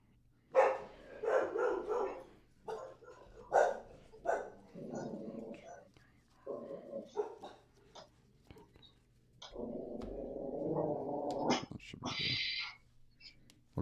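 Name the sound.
dogs barking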